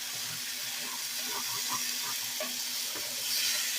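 Chicken and potato frying in a pan for a dhaba-style chicken bhuna, a soft, fairly faint sizzle with light stirring clicks and scrapes.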